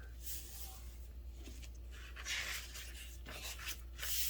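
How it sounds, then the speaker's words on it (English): Paper rustles and crinkles as a folded sheet is opened back out while making a paper airplane, soft scraping and crackling sounds close by over a steady low hum. "unfold the paper."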